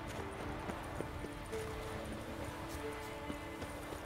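Steady clip-clop of horse hooves at an even trotting pace in The Witcher 3 video game, moderately close, over a low constant background hum.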